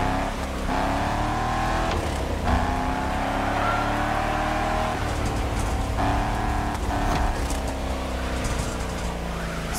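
A Shelby car in The Crew Motorfest drifts downhill, its engine roaring steadily with revving swells and tire noise throughout, loud and close with no talking.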